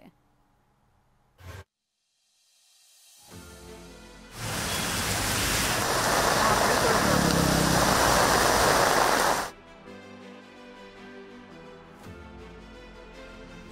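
A steady, dense hiss of heavy rain in Bengaluru sweeps in for several seconds, loud and close, then cuts out to quieter background noise.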